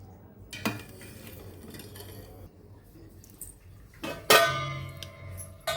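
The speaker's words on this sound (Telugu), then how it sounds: "ఇదిగండి ఇట్లా ఒక పెద్ద గిన్నె తీసుకోవాలండి" A large steel cooking pot handled in a home kitchen, two sharp metallic clanks with ringing decay separated by quieter scraping and rustling, fairly close.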